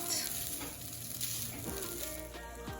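Fried saimin noodles with green onion being tossed in a hot pan, a loud continuous sizzle with stirring clatter, close and without talk.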